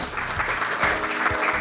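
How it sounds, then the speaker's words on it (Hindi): Welcoming applause from an inauguration audience for an honoured guest, a crowd clapping steadily at moderate volume, with a low rhythmic thump pulsing faintly underneath. "एक बार फिर तालियों से स्वागत हो।"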